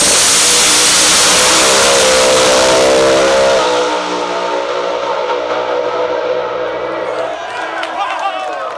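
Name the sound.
Pro Mod drag race cars, blower versus turbo, racing side by side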